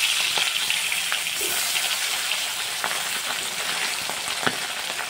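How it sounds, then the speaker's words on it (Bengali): Tilapia fish pieces fry crisply in hot oil, giving a continuous dense sizzle close by, with a few faint clicks and small pops, and no voices. "একটু ভালো করে কড়া কড়া করে ভাজতে হবে তেলাপিয়া মাছটা"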